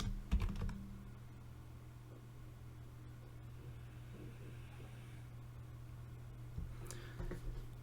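Code is typed on a computer keyboard, a soft, steady patter of keystrokes close by over a low constant hum, with a few louder clacks at the start and near the end.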